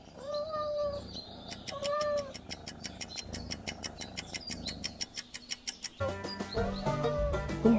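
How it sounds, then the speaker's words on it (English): A cat meowing in repeated drawn-out calls, a few clear meows near and loud, mixed with rhythmic ticking and other farm-animal sounds later on. "It's a cat."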